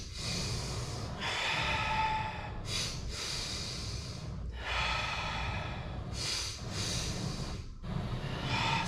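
A person does slow physiological-sigh breaths during a steel mace yoga session, with quick sharp nasal inhales followed by long, airy exhales. The rhythmic cycles repeat up close and alone.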